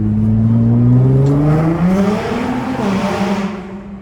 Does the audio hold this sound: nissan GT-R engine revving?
yes